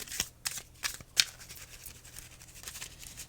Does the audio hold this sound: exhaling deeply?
no